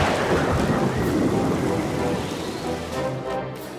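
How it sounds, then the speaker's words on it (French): Steady, dense rain pours continuously with a low rumbling wash underneath, loud and close throughout with no voices. "C'est juste un peu de pluie."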